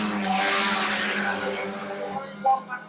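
Stock cars race around an oval track, with engines droning loud and tonal as they pass and a brief sharp burst near the end, while a commentator talks over the noise.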